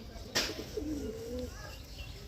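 Madras pigeons coo in a home loft, a soft, close, low-pitched call repeated a couple of times, with a brief rustle or flap at the start and quiet background noise.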